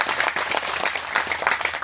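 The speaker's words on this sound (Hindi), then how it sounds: "उसके लिए ताली बजाओ भाई जोर से।" A meeting audience breaks into loud, dense applause, many hands clapping together in a steady burst close by.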